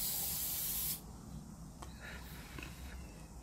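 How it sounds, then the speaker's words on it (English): CRC silicone spray hisses inside a cup for about a second, a close and steady aerosol rush, followed by soft handling rustles and faint movement. "just spraying some silicone on the inside of my cup."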